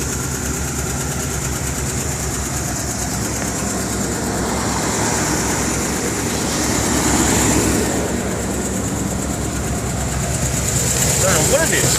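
Car engine idling steadily with a persistent mechanical ticking, suspected from a lifter or manifold, running at close range throughout with a voice talking over it.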